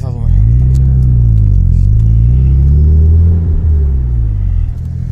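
A Mazda RX7 FC rotary engine revs loudly up close, rising and falling in a sustained, throaty drone that dips near the end.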